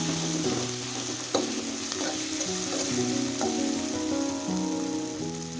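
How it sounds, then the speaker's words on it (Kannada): Green chili paste is stirred into a pan of greens palya, giving a continuous close sizzle and spatter with soft stirring scrapes. No one talks. "ಇದು ಹಾಕೊಂಡು ಚಂದ ಮಿಕ್ಸ್ ಮಾಡಬೇಕು ನೋಡಿ"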